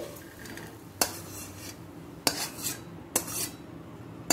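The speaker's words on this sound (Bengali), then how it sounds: "ডিমটা ভাজা হয়ে গেছে, এরপর আমি অন্য পাত্রে রেখে দিচ্ছি।" A fried, lightly scrambled egg is moved from a kadai into another dish, with four sharp metal utensil clinks against the pan, each trailed by brief scraping, close and clear over quiet.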